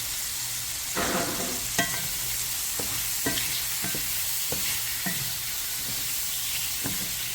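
A garlic clove sizzling in a hot pan while shrimp cook for shrimp and grits, a constant close hiss punctuated by several sharp spatula scrapes and stirs.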